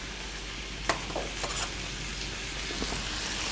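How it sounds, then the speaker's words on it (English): Diced onion sautéing in olive oil for a frittata with polenta, giving a soft, steady sizzle with a few light clicks of a utensil against the pan, fairly quiet and without talk. "as we're letting this cook, get nice and sauteed and brown in that olive oil"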